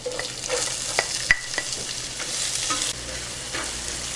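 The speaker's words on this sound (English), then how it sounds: "And saute this onion till the time they get very light golden color." Chopped onion sautéing with whole spices in hot oil, a continuous close sizzle broken by stirring scrapes and a sharp utensil tap, with no voices.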